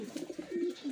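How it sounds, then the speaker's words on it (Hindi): Kasuri pigeon cooing close by, a brief series of soft, low throaty coos. "ये कसूरी कबूतर है मेरा"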